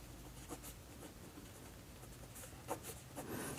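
Pen scratching across paper while a math problem is worked out, quiet and close, with short strokes and taps in an irregular rhythm and no talking.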